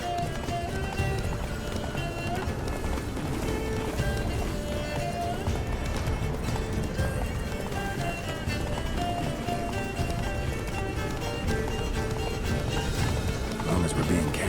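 In The Witcher 3, Geralt's horse Roach gallops with fast, continuous hoofbeats under a busy game soundscape, with voices present at times.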